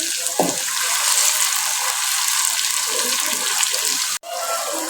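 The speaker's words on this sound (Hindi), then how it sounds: "ऑनियन का पेस्ट थोड़ा सा पकाने के बाद" Onion paste cooking in a pot for whole black urad dal: a loud, steady, hissing sizzle heard close up, with faint stirring, broken by one brief cut near the end, and no talk.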